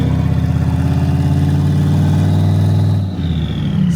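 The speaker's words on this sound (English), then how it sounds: "if you hear that beautiful, glorious V8, that is the hood exhaust that sticks out right there of the Turperado." Deep, lumpy V8 rumble from the hood-mounted exhaust of the Turperado hot rod at a drag event, loud and close, idling with a brief throttle dip and recovery near the end.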